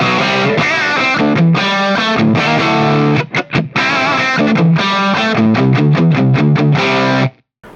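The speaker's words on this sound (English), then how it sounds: "Just kind of going with a kind of a straight ahead rock saturated" A saturated straight-ahead rock guitar tone through a Mesa Boogie Mark IV amp, played as a loud, dense run of chugging chords with brief stops, close and alone, ending in a quick cutoff.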